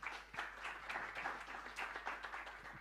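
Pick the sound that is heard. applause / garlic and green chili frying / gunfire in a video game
applause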